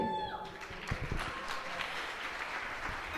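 Audience applause at a stage play, a dense steady wash of clapping from a crowd that holds at an even level for a few seconds after a brief tone fades at the start.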